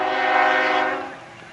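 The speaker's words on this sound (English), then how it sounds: "Got that train going by." A loud, close train horn sounds as a train passes beside a junior Legion baseball field, a sustained blaring chord that fades slightly toward the end, with no voices.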